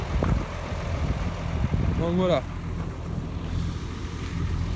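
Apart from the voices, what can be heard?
tractor engine running nearby in a field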